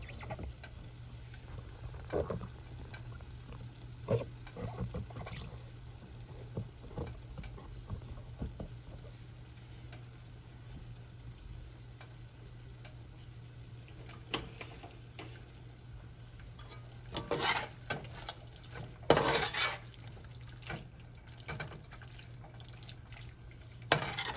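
A spoon stirs yogurt into beef tikka karahi in a pan, making faint, scattered scraping and soft sizzling sounds over a low, steady background hum.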